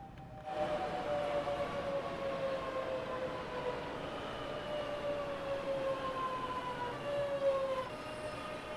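A Class 465 electric train in the game Train Sim World 2 rolls into a platform at Higham, its steady rumble carrying a rising and falling motor whine throughout, close and continuous with no talking.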